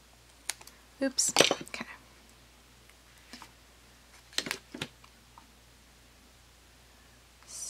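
Scissors snip through a paper card for a handmade Mother's Day card, a few sharp close cuts in short bursts with pauses between, while someone speaks briefly nearby.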